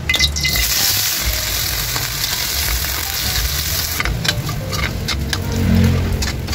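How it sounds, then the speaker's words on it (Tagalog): Potato pieces fry in hot oil in a pan, a steady close sizzle that runs throughout, with sharper crackles and spatters breaking out over the last couple of seconds. "Ayan guys, mainit na yung mantika. Kaya ipiprito muna natin itong patatas."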